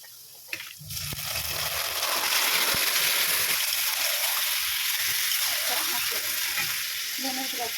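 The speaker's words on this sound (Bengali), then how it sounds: "পেঁয়াজটা ভাজা হয়ে গেছে, এবার আমি মাংসটা দিয়ে দেবো" Chicken pieces hitting a pan of fried onions and oil for biryani: a sharp clatter as the meat goes in, then loud, continuous close sizzling and stirring with a wet, bubbling texture, no talk.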